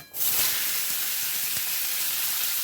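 Potatoes dropped into hot oil with black cumin in a wok, sizzling in a loud, steady hiss after a sudden start, with a few faint pops and no voices.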